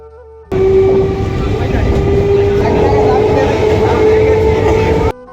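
A train arriving at a railway station rumbles loud and close in a continuous roar, with a steady high whine running over it, starting abruptly and cutting off just as suddenly.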